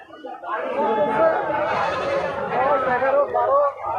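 A goat bleats loudly and close by at a livestock market in Salanga, wavering cries mixed with people talking nearby.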